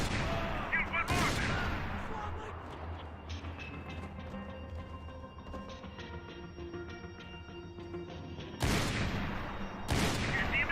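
Gunfire in the video game Max Payne 3: loud bursts of shots open and close the stretch, separated by a quieter rumbling middle section with tonal game effects, and no one talks over it.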